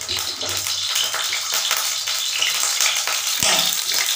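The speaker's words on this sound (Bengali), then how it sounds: "সর্ষের তেল দেওয়ার পর দুটো তেজপাতা ছেড়ে দিলাম।" Bay leaves sizzling in hot mustard oil in a pan while cooking pumpkin dum, a steady close crackling fry with a few stirring clinks.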